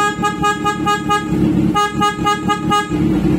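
A PIAA horn on a Kawasaki Z1000 motorcycle honks repeatedly in short rhythmic bursts, loud and close, with a brief pause midway.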